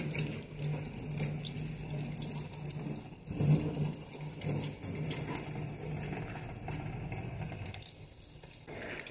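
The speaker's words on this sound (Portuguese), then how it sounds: "Vou lavar ela aqui." Water runs steadily from a kitchen tap while leaves are rinsed under it, a continuous splashing hiss with small shifts in the flow and the occasional brief bump, with no talking.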